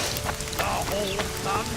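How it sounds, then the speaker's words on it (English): Rain pattering in the game The Witcher 2, a dense close patter of drops on surfaces with scattered brighter ticks, continuous over a couple of seconds. "It's raining."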